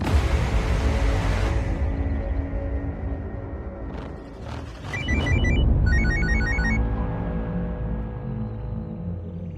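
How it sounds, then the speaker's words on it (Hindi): A phone rings back with repeated electronic tones on an outgoing call, heard over a loud, steady background of music and noise. "लगा करीम को फोन"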